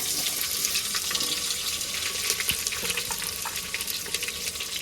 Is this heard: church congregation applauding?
no